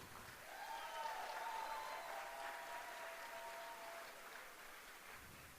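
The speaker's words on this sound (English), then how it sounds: "So let's give a big round of applause." Conference audience in Las Vegas applauds, a dense steady patter of clapping that swells early and slowly fades over several seconds, fairly distant.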